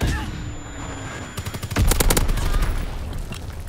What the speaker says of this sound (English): Fighter aircraft ready for strafing run.